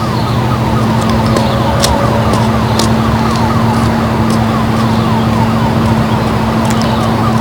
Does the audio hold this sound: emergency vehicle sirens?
yes